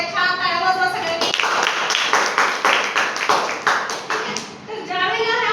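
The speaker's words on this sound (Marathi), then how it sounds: "टाळ्या वाजवा सगळ्यांनी." A classroom of students clapping together for a classmate's correct answer, a dense burst of many hands that starts about a second in and fades near the end, with children's voices faintly behind.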